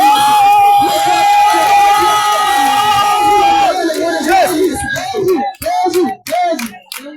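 A crowd at a nighttime prayer vigil in a marketplace in Kara, Togo, cheers and acclaims loudly at first, with sustained voices, then breaks into shorter shouts and bursts that fade in and out toward the end.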